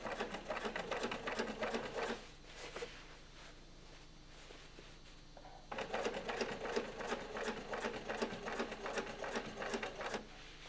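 Sewing machine topstitching the fly zip on a pair of jeans, with two rapid, close-up runs of mechanical needle clatter separated by a brief pause. The machine is fairly quiet.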